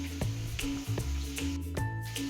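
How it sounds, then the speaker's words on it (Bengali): Pieces of a large silver carp fry in a pan on a gas stove in a small kitchen, giving a steady quiet sizzle broken by several sharp crackles and pops, with no talking. "এখন আমি ভেজে নেব মাছগুলো"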